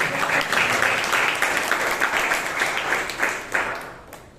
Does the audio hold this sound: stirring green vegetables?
no